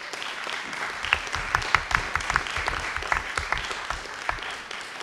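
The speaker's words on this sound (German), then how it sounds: "Ich denke, der Erste bekommt schon mal einen Applaus." An audience at a panel discussion of Bundestag constituency candidates applauds, with steady, moderately loud clapping whose sharp individual claps stand out throughout.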